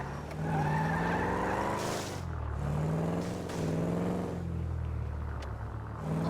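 A car in a video game revs in repeated rising and falling engine surges, each pull climbing in pitch, with tire squeals between them, loud and close with no voices.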